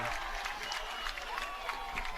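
Bridgewater-Raritan fans cheer and applaud at a boys high school lacrosse game at Stewart Field, a steady wash of crowd noise, clapping and whoops throughout with faint voices mixed in.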